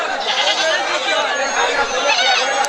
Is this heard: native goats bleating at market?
yes